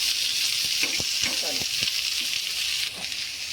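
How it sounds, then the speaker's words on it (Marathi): Onions sizzle on a hot griddle in a steady, bright hiss, with a few soft knocks partway through. "चला आपण आता कांदा भाजायला ठेवलेला आहे"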